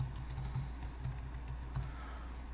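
A computer keyboard clatters faintly as a sudo password is typed, a quick, irregular run of soft key taps with no voices.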